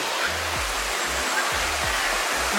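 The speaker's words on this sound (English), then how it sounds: "This is the waterfall." Waterfall at Parque Arvi in Medellin in the dry season, a steady broadband rush of falling water heard close and continuous, with low thumps of handling noise underneath.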